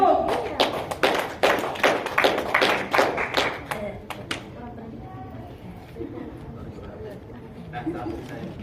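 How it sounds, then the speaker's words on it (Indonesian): Applause from the audience at a motivational seminar: dense, lively clapping for about four seconds that thins out into scattered claps and then fades into room murmur. "Aplaus untuk Bapak Ibu"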